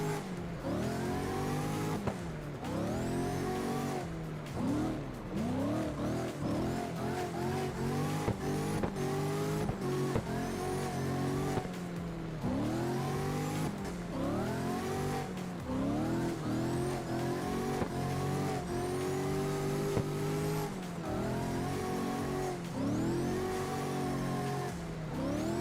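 A car in the CarX racing video game revs hard over and over, its engine pitch climbing and dropping in repeated sweeps, with tire squeal mixed in, loud and continuous, with no talking.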